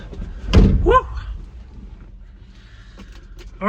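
A van's sliding door slams shut with one loud, close thud, followed by a short barking or squeaking sound and low background noise.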